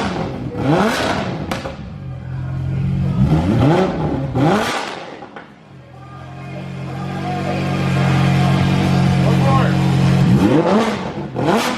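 A single-turbo LS3 V8 in a Superlite SLC car revs hard, loud and close, rising to a roaring wail, dropping and surging again over several blips, with a sustained high-rpm hold and people talking underneath.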